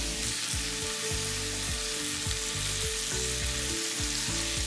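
Shrimp sizzle loudly and steadily in a hot pan, with a rhythmic series of stirring knocks and clatters running under the continuous frying hiss.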